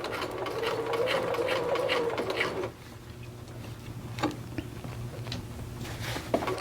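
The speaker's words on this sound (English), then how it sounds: "line up the edge of the seam for basting at the 1/2 inch mark on your machine, and then we're just going to baste the first go round" A sewing machine basting a raglan sleeve seam at a half-inch seam allowance runs in a steady, close whir for about two and a half seconds, then stops, leaving only faint handling clicks and rustles.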